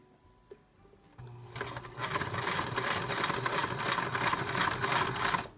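A sewing machine runs in quick rhythmic bursts, needle clattering rapidly as it stitches a zipper onto a chipboard paper craft, starting after a few small clicks and holding close and steady to the end.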